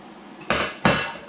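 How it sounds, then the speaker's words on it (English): Two sharp, hard knocks about a third of a second apart as a serving dish is pulled out and set down on a counter in a home kitchen, close and clear with no talking. "let's get our serving dish out"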